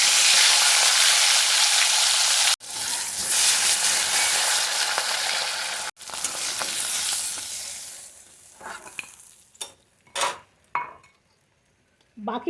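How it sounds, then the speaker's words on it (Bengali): A fish head fries in hot oil in a wok: a loud, steady sizzle that cuts out twice, then thins into scattered crackles and pops as the frying settles. "কড়াইয়ের মধ্যে দিয়ে দিলাম তেল। প্রথমে আগে মাথাটা ভেজে নেব।"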